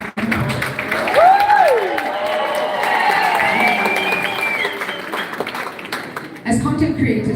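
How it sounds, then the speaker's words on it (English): Audience applause and cheering at a live content creators event greet an arriving guest, a steady crowd roar with a whistle-like rising tone in the middle, fading briefly before a fresh burst of clapping at the end. "Please give her a applause as she comes."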